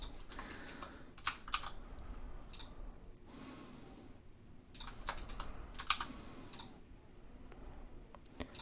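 Blender keyboard shortcuts are tapped on a computer keyboard, quiet clustered keystrokes and mouse-like clicks arriving in short bursts with pauses between, close and soft against a low background hiss.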